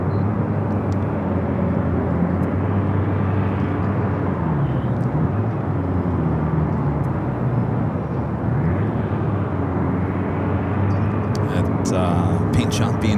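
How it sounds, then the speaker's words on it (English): A Lufthansa Boeing 747-8 Intercontinental in 100-year anniversary livery arrives at LAX, its engines a steady, loud broadband roar that holds for the whole stretch. "we got the Lufthansa bringing in the 747-8 Intercontinental wearing the brand new 100-year anniversary logo"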